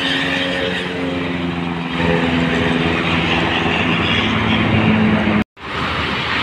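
A Sumatra intercity bus on the Merak-Jakarta toll road passes close by with a loud, continuous roar of engine and tyre noise that swells and holds, then the sound cuts off abruptly near the end.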